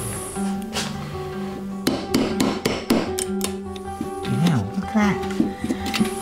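Hammer blows chopping filler out of a Honda race motorbike engine during a strip-down: a series of sharp, irregular metallic strikes close by, interspersed with someone talking over a steady background hum.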